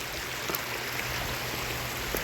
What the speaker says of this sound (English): A little creek going down here.